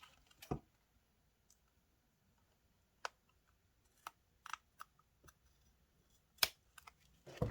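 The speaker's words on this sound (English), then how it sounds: "Now I'm going to take my scissor and I'm going to cut off the excess." Scissors trimming excess paper from a handmade alcohol ink Christmas card, a handful of sharp, separate snips and clicks spaced out over quiet moments, close and fairly faint.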